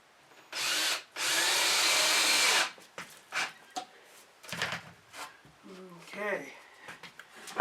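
A power drill drives a long screw down through plywood in a school bus roof, two loud whirring bursts early on, the second sustained for about two seconds, followed by clatter, shuffling and talk.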